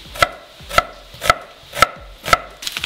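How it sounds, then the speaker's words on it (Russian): A knife slices a halved onion into strips on a board in a steady rhythm, five crisp close cuts followed by a few lighter taps. "и нарезаем перьями."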